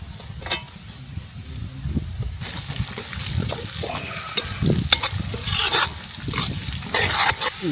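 Green beans fry in a pan over a village clay stove, with a steady low sizzle broken by repeated scraping stirs and clinks of a spatula, close and loud.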